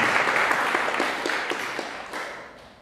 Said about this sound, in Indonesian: Tepuk tangan buat Ustaz Harun.